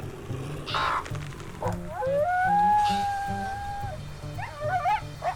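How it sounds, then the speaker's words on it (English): Coyotes in the wolf-survival game WolfQuest howl and yip loudly near a carcass, with several long wavering cries and shorter yelps overlapping over a few seconds. "wow, the coyotes are loud."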